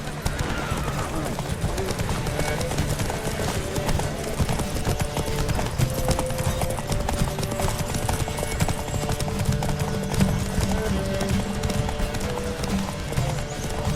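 Steady rapid hoofbeats of horses galloping in a horse race in the video game The Witcher 3: Wild Hunt, continuous and loud, with a neigh and a dense rumbling layer underneath.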